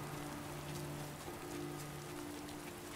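Steady rain falls in the video game Last Day of June, a constant soft hiss of drops on surfaces with a faint low hum beneath, no voices.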